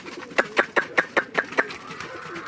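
A male pigeon that has returned home coos in a quick run of about seven rhythmic pulses, close and moderately loud, then trails off into soft background noise.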